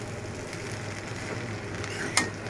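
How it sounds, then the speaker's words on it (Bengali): Pasta with fried egg is stirred in a hot frying pan, a steady soft sizzle with quiet scraping from the spoon and one brief clink near the end. "এবার আমি এগুলো নাড়াবো"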